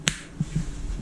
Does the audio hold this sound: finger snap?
yes